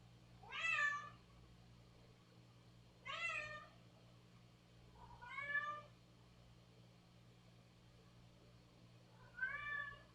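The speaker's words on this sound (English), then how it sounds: "Cat." A cat meows four times at spaced intervals, each call a rising then falling tone, fairly close and clear over a steady low background hum.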